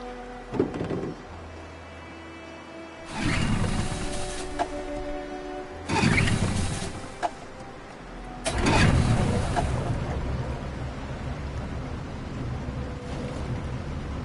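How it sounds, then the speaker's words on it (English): A boat engine in the video game Detroit: Become Human sputters to life in several rough bursts, then settles into a steady rumbling run, with water and wind noise throughout. "Let's get that engine going."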